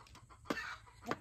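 A few soft chicken clucks come through quietly, short scattered calls from a distance with faint background noise between them.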